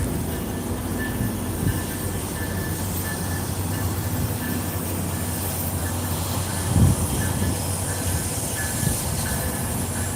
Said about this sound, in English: Dang, I like seeing that train.